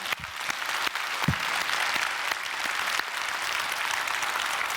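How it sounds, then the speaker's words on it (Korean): A church congregation gives a big round of applause during a sermon, steady dense clapping that fills the room for several seconds with no speech over it. "하나님께 영광의 큰 박수 합시다"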